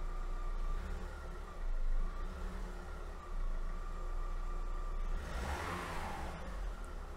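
An Audi A2 with a 1.4 16v AUA petrol engine, freshly cleaned throttle body, runs after starting with a steady mid-pitched hum that swells briefly partway through, heard alone at moderate distance.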